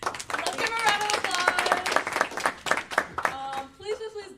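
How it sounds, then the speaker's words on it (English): Audience clapping at a university business pitch competition, a dense crowd round of applause rising and sustained throughout, with voices and cheering mixed in over the clapping. "Let's give a round of applause"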